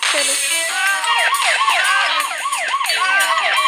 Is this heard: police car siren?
yes